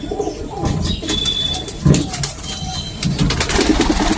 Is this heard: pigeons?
yes